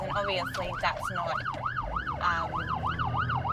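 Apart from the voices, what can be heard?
ambulance siren passing on the commute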